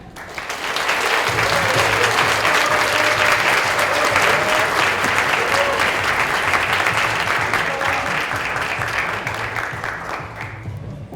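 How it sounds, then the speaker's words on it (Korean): A large audience applauds steadily throughout at a Korean tech talk event as a programmer podcast host and columnist is welcomed onstage, dense sustained clapping from start to finish with a slight fade at the end. "큰 박수 부탁드릴게요"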